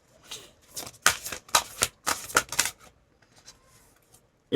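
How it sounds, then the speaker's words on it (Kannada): Tarot cards are drawn and laid out near the microphone, giving a cluster of crisp riffling and slapping bursts in quick succession, then a quieter pause with a last faint rustle. "ಮೂರು ಕಾರ್ಡ್ ಇಡೋಣ"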